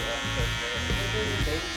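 Electric hair clipper buzzing steadily and close during a mid drop fade haircut, used clipper over comb, with speech running over the hum throughout.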